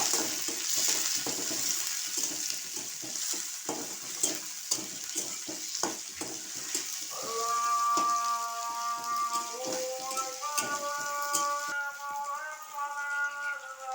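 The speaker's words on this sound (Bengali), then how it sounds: "পেঁয়াজ কাঁচা লঙ্কা এইগুলো আমি একটু লাল লাল করে ভেজে নেব" Onions, garlic and green chilies fry until reddish in oil for a thankuni leaf chorchori, a steady sizzle with scattered stirring clicks, joined in the second half by tonal clinks and ringing, the sizzle continuous and fairly close.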